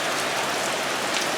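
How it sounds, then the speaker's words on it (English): Steady rain falls outside a workshop during a 1968 Triumph TR250 restoration, a dense, even hiss of drops with no pauses, close and moderately loud throughout. "Raining out"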